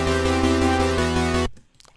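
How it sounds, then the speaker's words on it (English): A sustained synth chord is played with the FL Studio chorus 1 effect, giving a thick, shimmering tone that holds steady and then cuts off abruptly, leaving near silence. "and then you've got chorus 1, which sounds like this"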